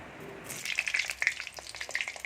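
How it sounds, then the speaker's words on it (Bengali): Cumin seeds hit hot oil for a tempering, and a sudden crackling sizzle bursts in after a quiet start, popping busily and unevenly up close for the rest of the moment. "তারপরে জিরে ফোড়ন দিয়ে দেবো"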